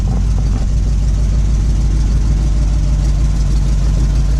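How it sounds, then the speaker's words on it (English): A 1979 Ford F700 4x4 dump truck engine idles close by with a steady, deep, loud rumble and constant low throb throughout, with no voices. "that's a dump truck."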